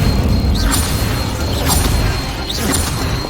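An Incendio fire spell cast in Hogwarts Legacy, a dense roaring burst of flame with crackling whooshes, loud and close, swelling and subsiding over a few seconds with brief high swishes layered on top.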